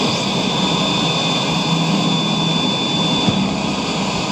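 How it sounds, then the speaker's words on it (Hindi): Indian fighter jets taking off at night, a steady, loud broadband jet roar sustained throughout with no pauses or voices. "एक के बाद एक भारतीय लड़ाकू विमान गरजते हुए आसमान की ओर उठे"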